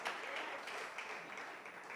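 A church congregation claps in steady, sustained applause that fills the room evenly, heard at a low level.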